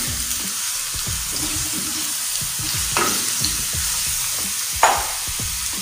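Onions and garlic paste frying in a pan give a continuous moderate sizzle, with a spoon stirring and scraping and a couple of sharper scrapes standing out.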